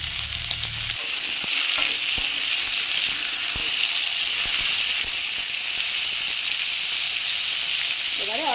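Sweet pumpkin pieces fry in a hot pan with a steady, loud, close sizzle that runs throughout, broken by a few soft stirring knocks.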